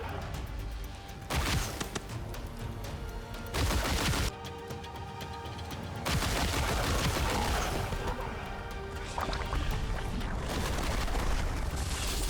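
Heavy boss attacks in the video game Voidling Bound, with a dense, loud barrage of booming blasts and crashing impacts. Brief lulls break it into bursts, and there is no talk.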